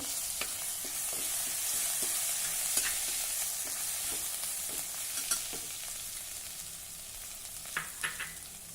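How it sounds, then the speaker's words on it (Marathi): Crushed green chillies and grated ginger sauté in a pan, with a continuous close sizzle and a regular series of spatula scrapes and taps from stirring, and no talk. "हे आपण छान परतून घेऊया"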